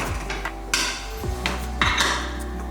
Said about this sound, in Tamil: இப்போ குக்கர் மூடியை மூடி வச்சிடலாம்